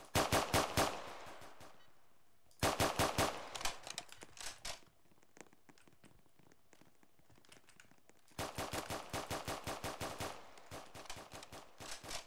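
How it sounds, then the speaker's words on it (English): Gunfire in the Roblox Prison Life video game, rapid automatic bursts of shots in three clusters separated by a quieter stretch with scattered faint shots, fairly close and with no talk. "why is he shooting all of us?"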